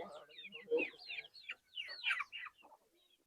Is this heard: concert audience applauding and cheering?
no